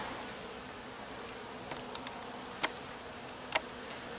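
A hornet buzzes steadily near a door, a continuous insect drone with a few brief sharp ticks and taps over it, fairly quiet and with no voices.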